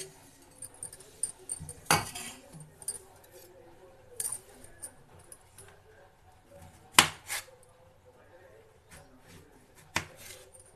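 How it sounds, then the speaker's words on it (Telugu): Tender brinjals are cut into pieces that drop into salted water in a home kitchen, with sparse sharp knife clicks and small clinks spaced several seconds apart over a faint background. "ఇప్పుడు ఈ వంకాయలను కట్ చేసుకొని ముక్కలుగా వేసుకుందాం ఈ వాటర్లోకి"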